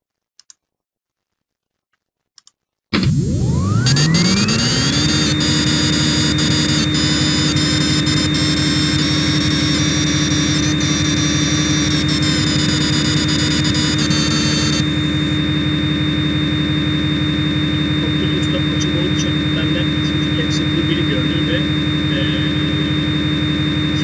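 A CNC lathe starts up and runs a G71/G70 turning cycle, its spindle spinning up into a loud, steady mechanical whine with a constant drone throughout, the pitch holding level after the initial rise.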